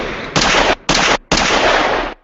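Loud bursts of video game gunfire, three sustained volleys of rapid automatic shots separated by short gaps, close and harsh with no talk over them.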